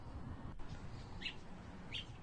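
Two short, faint, high chirps from a wild bird, spaced under a second apart, outdoors against a low background rumble.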